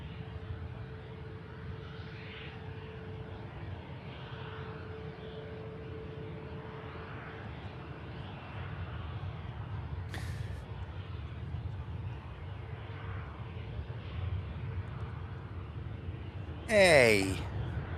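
A business jet at Manchester Airport produces a faint, continuous low rumble with a thin steady tone, fairly distant, while a voice speaks intermittently and a sharp bright sound breaks in near the end.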